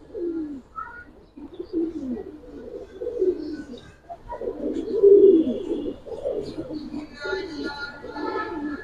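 Kaldom pigeons coo in a low, throaty burbling that rolls on continuously, with several birds overlapping close by and a few faint higher chirps mixed in.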